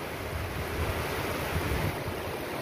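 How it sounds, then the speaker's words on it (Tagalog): Heavy rain pours down in a steady, dense roar at a rural home, a constant broadband wash with no pauses and no voices. "ang lakas ng ulan"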